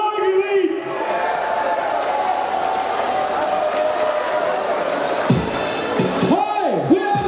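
A crowd cheers and applauds at an outdoor schlager festival in Londerzeel, a continuous roar of voices and clapping with whoops and rising shouts, with a sustained musical tone underneath.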